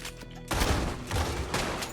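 Two heavy shotgun blasts from Red Dead Redemption 2 boom in quick succession, each a loud burst with a rumbling tail, close and separated by about a second.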